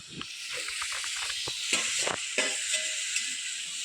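Potatoes sautéed in oil with spice masala, a steady close hiss of sizzling with soft crackles and occasional stirring scrapes, no talking.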